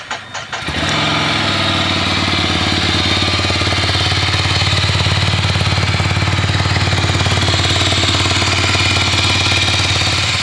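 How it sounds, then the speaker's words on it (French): A 2023 Ducati Scrambler 800 twin-cylinder engine catches and settles into a loud, lumpy low idle, its throbbing pulse steady and close for several seconds. "Là elle est sur son ralenti bas, on entend bien le moteur bicylindre"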